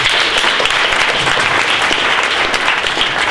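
Audience at a junior hackathon show-and-tell gives a loud, dense round of applause, steady and sustained throughout with no talking over it.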